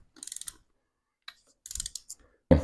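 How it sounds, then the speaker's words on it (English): A ratchet wrench tightens cylinder head bolts to 30 pound-feet on a Mustang engine during a head gasket install. It gives two short bursts of quick clicks, close and fairly quiet, with silence between them and a thump at the end. "we'll go back and tighten to, again, 30 pound-feet"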